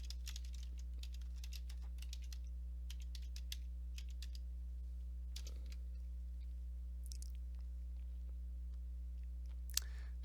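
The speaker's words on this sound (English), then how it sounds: "we're going to type questions or concerns" Computer keyboard typing during slide formatting, a sparse run of light key clicks with small bursts, faint against a steady electrical hum, no voices.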